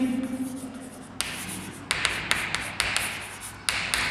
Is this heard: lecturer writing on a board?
yes